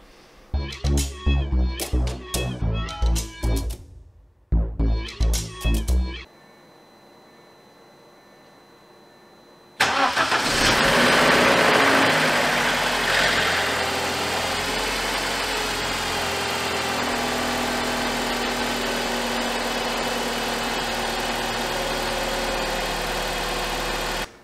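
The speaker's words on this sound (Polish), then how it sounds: "Jak słyszeliście, odpalił, bez problemu chodził" Several cranking bursts from a starter motor, a pause, then a BMW E46 engine with a Valvetronic N42/N45/N46 catches after timing chain replacement and settles into a steady, loud idle close by.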